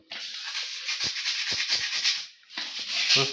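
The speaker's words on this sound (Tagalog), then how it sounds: "Light sanding lang naman, tsaka sa portion lang na may diferensya." Sandpaper rubs back and forth in quick, scratchy strokes, close by, with a brief pause before the light sanding resumes on an epoxy bathroom floor.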